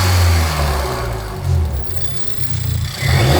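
A Suzuki Swift Sport turbo engine with its return hose fitted revs in short bursts, a deep rumble swelling and easing, then climbing again near the end, heard up close with no voices.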